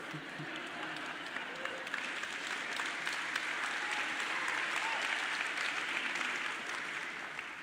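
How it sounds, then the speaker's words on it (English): A crowd in Sierra Leone applauds with dense, sustained clapping that holds at an even, moderate level throughout, slightly distant, with faint voices underneath. "See, now they're clapping about it."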